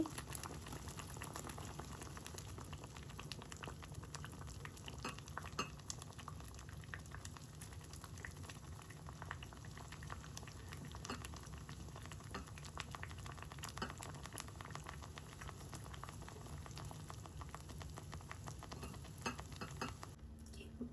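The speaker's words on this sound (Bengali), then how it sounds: "টক করে ফুটতেছে তো এখন পুরানো নারকেলগুলো দিয়ে দিচ্ছি" Sour chalta and radish curry with grated coconut bubbles steadily in a pot, a continuous close simmering hiss with small pops and occasional utensil clinks, no voices.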